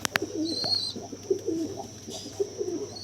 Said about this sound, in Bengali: এই দেখুন মাদি পায়রা